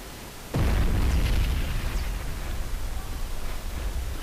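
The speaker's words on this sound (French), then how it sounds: "C'est cool, le creeper il explose pas le décor, c'est parfait." A creeper explodes in Minecraft with a sudden loud, deep boom that hits and then rolls into a long rumbling decay, with no talk.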